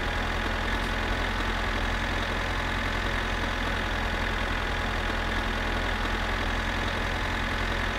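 A tractor engine idles steadily in the My Summer Car driving game, a continuous even low rumble with a constant mechanical drone and no talking over it.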